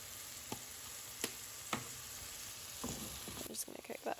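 Food sizzling quietly in a pan with smoked paprika, a soft steady frying hiss broken by a few light clicks and utensil stirs.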